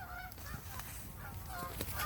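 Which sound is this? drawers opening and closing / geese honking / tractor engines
geese honking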